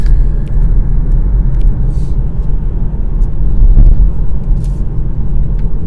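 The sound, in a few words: Hyundai Kona Electric car coasting with regenerative braking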